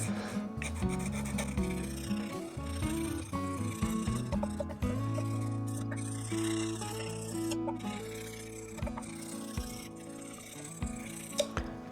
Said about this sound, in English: you bring it nice to level. Just take care that you don't touch the other frets with the sanding paper.